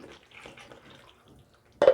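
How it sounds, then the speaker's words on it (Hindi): Water poured from close by into a pan of cooking masala for organic chole: a short, loud splash and sizzle bursts in at the end after quieter clinks and movement. "अब इसमें हम थोड़ा सा पानी डालेंगे जी"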